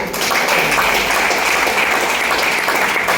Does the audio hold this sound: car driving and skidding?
no